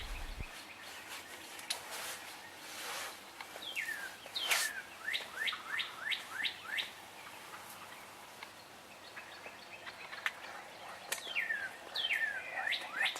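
A wild turkey hen calls in a field during spring turkey season, sounding short, repeated yelping notes at a distance, set among chirping birds with quiet stretches between bursts.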